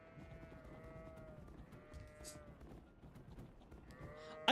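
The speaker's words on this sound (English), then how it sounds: "I forgot you could have sheep here." Farm animals in a video game calling over a steady ambient backdrop, drawn-out bleats from sheep and goats rising and falling several times across the stretch, moderately near and unaccompanied by talk.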